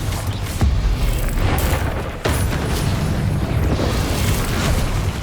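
A Confringo fire spell blasting in the Hogwarts Legacy video game: heavy, roaring booms that erupt twice in quick succession over a dense, loud rumble of battle noise.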